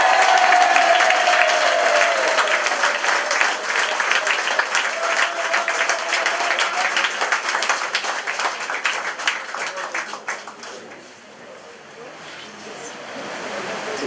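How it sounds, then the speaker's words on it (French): Applause from a crowd at a municipal election list presentation in 2014, greeting a newly introduced candidate: dense, steady clapping that runs for most of the stretch, thins briefly near the end, then picks up again, with faint voices beneath. "je vous demande d'applaudir Christian Rafa."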